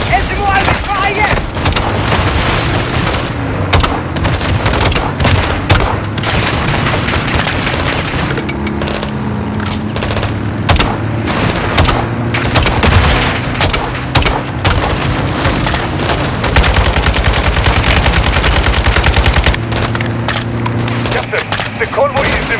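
Light machine gun fire in Call of Duty Modern Warfare II, loud sustained rattling bursts with booming explosions under dense battle noise and game voices.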